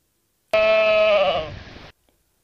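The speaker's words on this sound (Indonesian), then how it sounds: "Ini adalah domba. Coba dengarkan suaranya." A sheep gives one loud, close, drawn-out bleat lasting over a second, wavering as it fades, with silence before and after.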